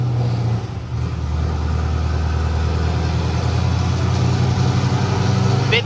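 An LS-swapped Nissan 350Z runs on a dyno in fifth gear, a loud close engine drone holding steady with slowly rising pitch through the whole pull, with no breaks or talk.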